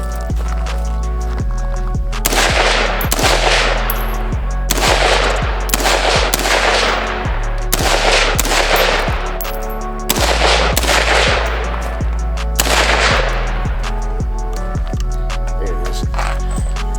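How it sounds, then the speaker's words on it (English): Loud, close gunshots ring out at an outdoor shooting range, fired one after another at a roughly steady pace, each sharp crack followed by a short echoing tail. "Take some shots with it."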